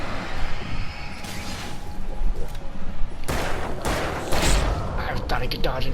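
Police gunfire in the video game Alan Wake Remastered bursts out as a series of loud shots and thuds over game noise, with someone talking through it.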